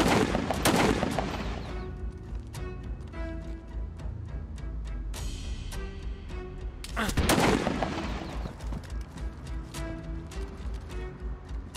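Loud gunfire in the survival game DayZ on the Takistan map, with two sharp broadband blasts, one at the start and one midway, above constant in-game noise and music while someone talks.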